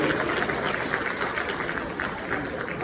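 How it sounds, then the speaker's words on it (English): Comedy club audience applauding and cheering after a stand-up hosting set, a dense, steady wash of clapping and crowd noise that stays loud throughout with no talk over it. "Make some noise for yourselves one more time because you guys have been a good crowd tonight."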